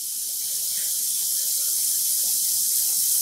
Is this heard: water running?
yes